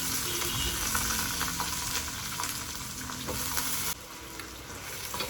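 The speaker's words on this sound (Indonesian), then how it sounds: "Sekarang saya mau masukkan ini nangkanya yang tadi saya rendam di air" Soaked young jackfruit pieces drop into a hot pan and sizzle loudly, a dense crackling fry with clattering stirring, easing slightly after a sudden dip near the end.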